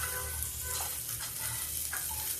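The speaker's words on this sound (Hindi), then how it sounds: "मेरा प्याज गरम हो रहा है।" Onion frying in a pan gives a soft, continuous sizzle with faint stirring scrapes, quiet and close, with no voices.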